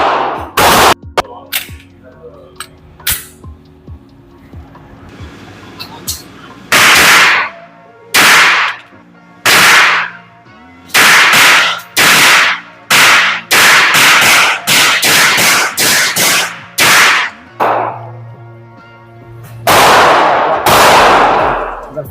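Canik TP9 Elite SC pistol firing at 15 yards, a long series of loud sharp shots, some single and some in quick runs, close and dominant with short pauses between strings.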